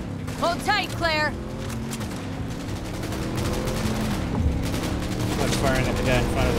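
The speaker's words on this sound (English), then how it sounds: "I'm firing at the guy in front of us" Rapid automatic gunfire from Cyberpunk 2077, shot in a PS5 playthrough, crackling in dense bursts through the second half while voices talk over the start.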